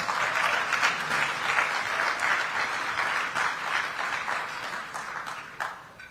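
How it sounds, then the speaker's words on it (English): An audience at the March On Washington Film Festival awards gala claps steadily for about six seconds, a dense, even wash of applause that tapers slightly toward the end. "Give him a great big round of applause."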